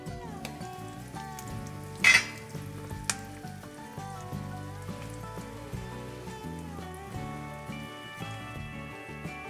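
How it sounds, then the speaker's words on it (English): Eggs with spring onion and chilli frying gently in a covered pan over low heat give a soft, steady sizzle with light crackles. The frying runs through the whole clip under background music. "Cover and cook on low heat for 2 minutes."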